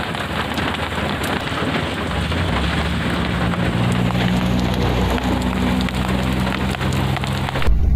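A downpour drums on a camper parked by the beach at Lumut. The rain is loud and unbroken throughout, with a low rumble underneath and no one speaking.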